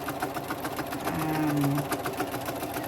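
A sewing machine stitching T-shirt fabric into diapers runs at a steady pace with a fast, even mechanical chatter, close and continuous, with no talking.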